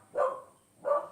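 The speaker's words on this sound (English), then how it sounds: "sorry about my dog in the background there." A dog barks twice in the background, spaced about half a second apart, moderately loud and clear, with no speech over it.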